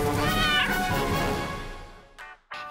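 A little kitten meows close up, one long drawn-out cry that fades away, followed by two short, thin mews.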